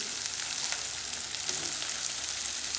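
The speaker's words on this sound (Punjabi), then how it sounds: "ਆਪਾਂ ਪਿਆਜ਼ਾਂ ਨੂੰ ਤੇਲ ਦੇ ਵਿੱਚ ਦਈਏ ਦੀ" Onions frying in hot oil for an okra curry, a bright, steady sizzle with sharp crackles and light stirring, close and uninterrupted by talk.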